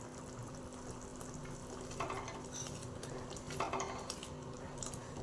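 Tomato chutney simmers in oil on a low flame, a steady soft bubbling and sizzle with a few clinks of a pot or spoon.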